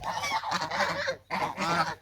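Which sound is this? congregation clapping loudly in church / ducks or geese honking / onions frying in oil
ducks or geese honking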